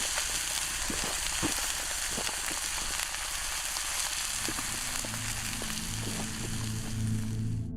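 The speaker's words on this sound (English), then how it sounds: "We'll just start by searing it." A steak sears in a hot pan with a steady close sizzle and crackle, popping spots scattered throughout, no voices.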